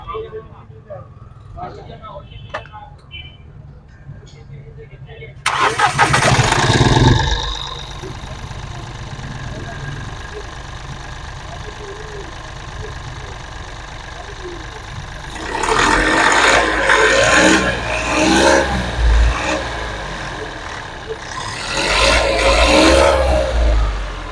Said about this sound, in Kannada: ಫ್ರೆಂಡ್ಸ್ ಸ್ಟಾರ್ಟ್ ಮಾಡಿ ಇವಾಗ ತೋರಿಸ್ತೀನಿ, ನೋಡ್ಬೋದು ಇಂಜಿನ್ನು.